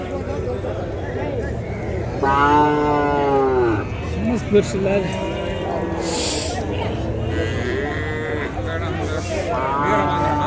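Young bull calves about a year old at a native cattle market moo in several drawn-out calls, one close and loud, amid crowd chatter and market bustle.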